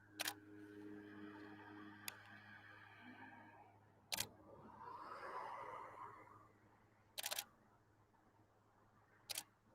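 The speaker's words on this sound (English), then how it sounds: "I'll get a shot of it first with the DSLR" DSLR camera shutter firing four separate crisp clicks at uneven intervals, outdoors at sunset in Snohomish, Washington, over a quiet background with a faint steady hum.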